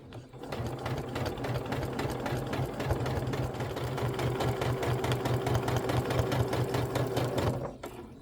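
Sewing machine stitching a line of quilting through a quilt, a fast, even mechanical whirr with a steady low hum that starts, runs about seven seconds and stops.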